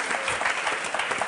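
A brief burst of steady studio audience clapping on the Motus game show, close and even throughout.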